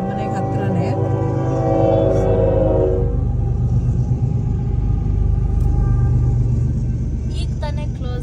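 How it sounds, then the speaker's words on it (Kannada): A train rolls past a railroad crossing near The Woodlands, Texas, with a steady loud rumble throughout and a strong tonal horn-like blast in the first three seconds, while voices talk over it. "ಟ್ರೈನ್ ಪಾಸ್ ಆಗ್ತಾ ಇದೆ."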